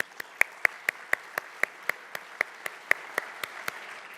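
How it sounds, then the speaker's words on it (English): A single pair of hands claps in a slow, steady rhythm, about fifteen crisp, evenly spaced claps at moderate volume, heard alone with a quiet background. "I think that deserves a round of applause,"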